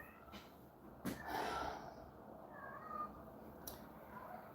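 A cat meows close by, a drawn-out plaintive cry followed by softer meows and snorting breaths over quiet indoor background noise.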